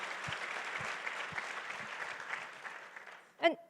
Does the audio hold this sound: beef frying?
no